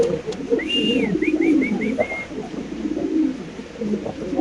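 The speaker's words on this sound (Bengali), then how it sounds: "আমরা আরেক জোড়া কবুতর ইনশাল্লাহ দেখাচ্ছি আপনাদের" Lahori pigeons give a run of soft, close, repeated coos over a low background murmur, with faint voices underneath.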